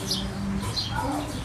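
Several birds chirp and tweet in short high calls over a low outdoor hum, fairly close and lively.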